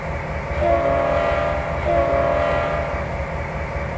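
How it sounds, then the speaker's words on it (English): Train brakes repressurizing in the Trainz 2022 railway simulator game, a loud steady hiss and rumble with sustained tonal whine rising and falling slightly, no talking. "let's use the train brake. There we go. That's going to repressurize."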